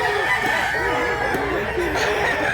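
A fighting rooster offered for sale crows and clucks near the microphone, its calls loud over a busy outdoor backdrop with faint voices behind.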